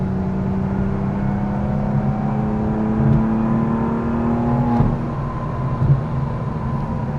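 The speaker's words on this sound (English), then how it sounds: "You can hear the turbos kick in, you can hear them really building that boost." A modified BMW F87 M2 Competition engine under load with a steady rising whine as the turbos spool up, holding a sustained drone with a few brief mechanical clunks.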